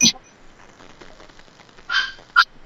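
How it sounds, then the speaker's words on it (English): Dog barking from another room in a house, a few short muffled barks and yips scattered among quiet conversational speech nearby. "Did you hear that? I hear that. My dog."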